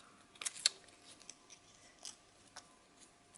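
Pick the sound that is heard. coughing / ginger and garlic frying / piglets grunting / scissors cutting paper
scissors cutting paper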